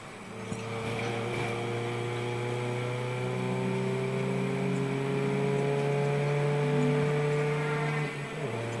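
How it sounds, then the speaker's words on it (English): A 2007 Mazda MX-5 race car at Donington Park during a trackday trophy race, its engine droning steadily with a slowly rising pitch as it runs continuously for several seconds, fairly close and loud with no talking. "Also in comes Jude Worley, number 20, beautifully prepared at Mazda MX-5"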